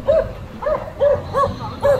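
Dogs bark on a city street during a clearance of roadside dwellings, about five sharp barks at a steady rhythm, fairly close and clearly audible over low background noise.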